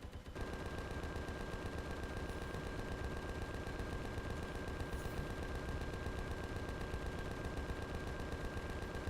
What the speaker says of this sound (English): Why is only one gun firing again?